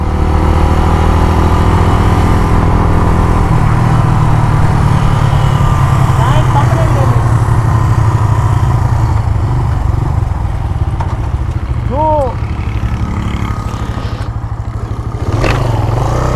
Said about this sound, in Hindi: तो व्यूअर्स ये थी आप लोगों के लिए एक फ्रेंडली ड्रैग रेस